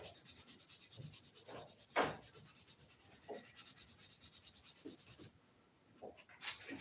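Steady back-and-forth sanding by hand, a soft rhythmic scratchy rubbing heard up close, with a few louder scrapes and a short pause near the end before the strokes resume.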